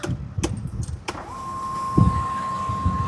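An Audi A7 Quattro's electric motor whirs steadily as the sunroof slides open, following a few clicks and thumps inside the cabin.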